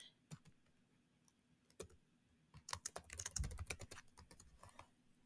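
Computer keyboard typing, a quiet cluster of clicks that builds into a rapid, louder burst of keystrokes near the end, with no voices.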